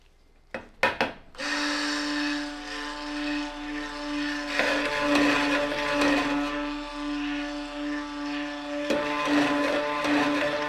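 A stick blender mixes soap batter toward emulsification: a few sharp knocks, then a close, steady motor whir with a rising and falling churning, running continuously and heard alone.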